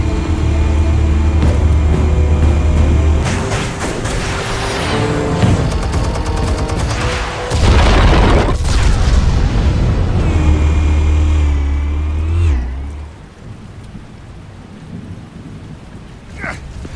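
Heavy booming blasts and rumbling debris as explosives detonate in Batman: The Telltale Series, several loud thunderous bursts with deep low-end rolls that fade into quieter ambience near the end.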